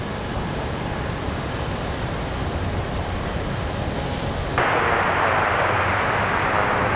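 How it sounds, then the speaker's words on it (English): An American Airlines Boeing 737-800 arrives from Phoenix at Raleigh-Durham on a windy day, a broad, steady jet roar heard at a distance that swells noticeably louder and brighter partway through. "American Airlines 795 coming in from Phoenix, Arizona, 3 hours 37 minutes, arriving in just 1 minute"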